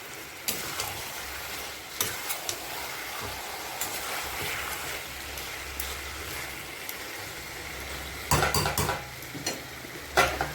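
Chicken curry with fried potatoes is stirred in a pot, with a low sizzle under repeated scraping and clattering strokes of a spoon, a quick burst of stirring near the end.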